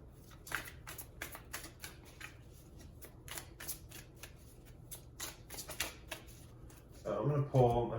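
Animal oracle cards handled and shuffled, a rapid run of crisp riffling flicks fairly close, ending in a louder rustling burst, with talking over parts of it.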